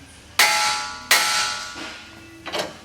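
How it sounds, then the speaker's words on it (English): Big hammer smacking a tapered tie rod end on a Jeep JK, two loud ringing metallic clangs about a second apart followed by a lighter third strike, each leaving a bright decaying ring. "just get a big hammer and just smack the end and they'll"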